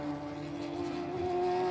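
Radical race cars pass on the Donington circuit, a sustained high engine whine holding steady then swelling slightly louder, continuous and mid-distance, with no voices over it.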